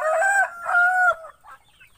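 Bantam chickens in a backyard in the Philippines give a close, loud pair of drawn-out calls, followed by fainter soft clucks as the sound trails off.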